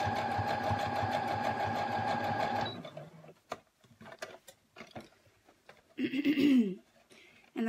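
A sewing machine stitches mittens in a steady, fast mechanical whir for about three seconds, then stops, leaving scattered handling clicks and fabric rustles.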